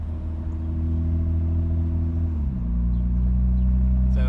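Mercedes-Benz SLK320 engine and exhaust running steadily on a private road on a hot day, a continuous low drone that drops slightly in pitch midway, close and loud with no talking.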